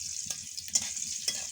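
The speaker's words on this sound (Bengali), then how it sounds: "তো এটা আমি যতক্ষণ ভালো ভাজা না হয় ততক্ষণ আমি ভাজতে থাকবো।" Paneer cubes sizzle steadily in hot oil in a pan after a pinch of turmeric, a continuous high hiss with a few brief scraping stirs, close and fairly quiet, with no voices.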